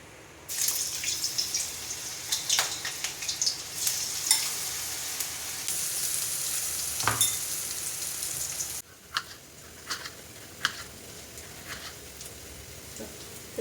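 Cauliflower coated in batter fries in hot sunflower oil in a pan, giving a loud, steady sizzle with scattered pops and drips; the hiss drops to a lighter crackle partway through.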